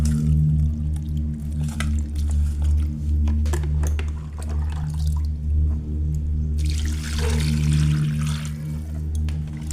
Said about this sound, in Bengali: এবার মাছগুলো ধুয়ে নিচ্ছি